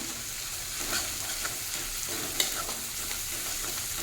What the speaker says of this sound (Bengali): আরও মিনিট খানেক এটাকে কষিয়ে নেব